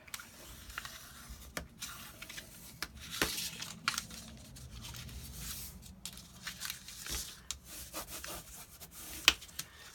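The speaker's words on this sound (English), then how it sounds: "turn it over and burnish" Folded paper being burnished on a handmade file folder album, soft close rubbing and scraping strokes in an uneven rhythm, faint and intermittent.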